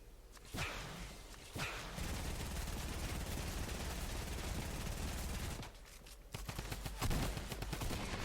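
Rapid bursts of gunfire from an online multiplayer shooter game, dense sustained automatic fire broken by sharp single cracks and brief gaps, loud and close with no talk.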